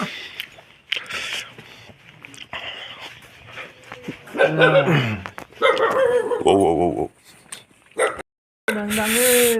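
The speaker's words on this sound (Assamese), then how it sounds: "আমাক দেখি এইটো ভুকিছে চাওক" A dog barks and whimpers in short bursts at close range, mixed with people talking and some background noise.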